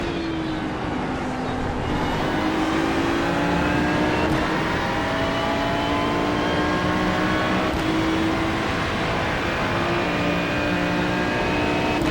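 A GT3 race car in the iRacing sim at Zandvoort howls loud and constant, engine pitch climbing through gears with sharp shift breaks, alone with no talk.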